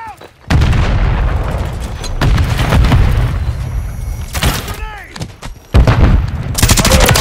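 Frag grenade blasts and heavy gunfire from a Modern Warfare 3 multiplayer match on the Dust to Dust map, with loud booming explosions and rapid bursts of Mk 46 and USP45 shots in quick succession, close and dense throughout.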